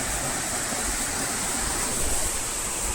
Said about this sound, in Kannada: ಅಷ್ಟು ಮೇಲಿಂದ ನೀರು ಬರ್ತಾ ಇರೋದು